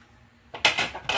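A metal lid clinks back onto a cooking pot of simmering sinigang with salmon head: a brief run of close, bright clattering taps within about a second.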